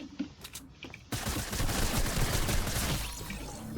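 A submachine gun in the video game Fortnite fires a sustained burst after a few quieter shots, loud and dense rapid fire that fills most of the clip.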